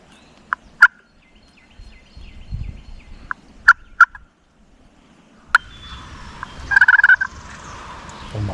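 Wild turkeys gobble in the woods during turkey season, several distinct gobbles at a distance, some in quick succession, with a closer burst near the end against quiet forest ambience.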